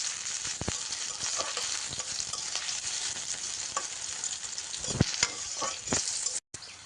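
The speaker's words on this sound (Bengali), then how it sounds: "এবার পেঁয়াজ মরিচ সুন্দরভাবে ভেজে নিতে হবে" Onion and chili sizzling in a pan for a crisp potato bhaji, a steady broadband frying hiss with occasional stirring clicks and a brief cutout near the end.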